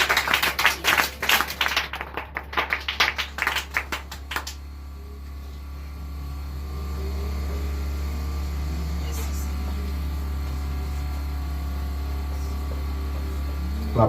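A church congregation claps in quick rhythmic bursts for a few seconds, then the clapping stops and a steady low hum fills the room, with voices faint beneath.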